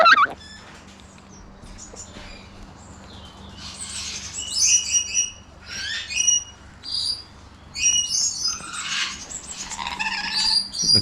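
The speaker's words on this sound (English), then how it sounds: "Oh, some little parrots here. Parrots. Looks like parrots," Small parrots calling outdoors, a series of sharp chattering squawks in clustered bursts over a low steady background hum, fairly close and with no talk.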